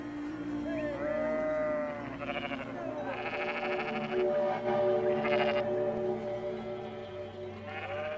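Sheep and young lambs in a pen at evening in wolf country, bleating repeatedly in overlapping calls, some near and loud, others further off, over a steady low background hum.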